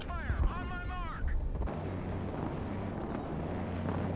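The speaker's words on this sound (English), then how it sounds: "Mobile artillery ready. Send mission. Wait. Direct fire on my mark." Mobile artillery direct fire in the Broken Arrow video game: a heavy boom rolls out after a short radio-style voice, followed by a sustained low rumble and scattered distant blasts.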